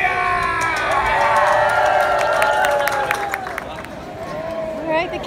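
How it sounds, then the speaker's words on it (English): A crowd at the Magic Kingdom theme park joins in a hip-hip-hooray cheer, with a loud sustained roar of voices, whoops and shouts continuing throughout the clip, close and dense. "Three cheers, hip hip. Hooray!"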